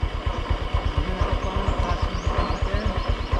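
A motorcycle engine running steadily nearby at a fast, even idle, its pulsing throb continuous and fairly loud with no voices over it.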